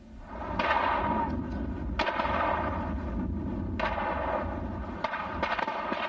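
Gunfire erupts during a police chase of two bank robbers, a dense, continuous barrage of shots with sharp loud bursts recurring every second or two over a roaring, noisy background.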